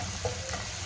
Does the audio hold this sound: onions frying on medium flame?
yes